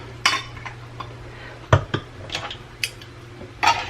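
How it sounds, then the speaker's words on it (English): Light metal clinks and taps as a lid and then a ring are set onto a glass canning jar of sliced mushrooms, several small separate knocks close up with quiet pauses between. "We're going to put a lid on it. Now we're going to put a ring on it."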